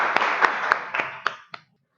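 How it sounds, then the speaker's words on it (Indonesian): A school class claps together in a classroom, with about six distinct sharp claps over a blur of scattered hand claps that fades out quickly, leaving a brief silence. "silakan tepuk tangan semuanya."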